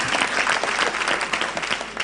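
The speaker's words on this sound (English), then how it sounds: "Applaud your president better than that." A conference audience at an education conference opening ceremony applauds the president, with dense, steady clapping from many hands filling the room throughout.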